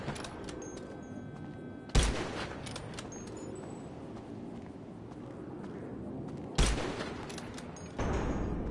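Marksman rifle fire in GTA, a bolt-action weapon with no scope, with three sharp loud reports spaced a few seconds apart over a steady background bed.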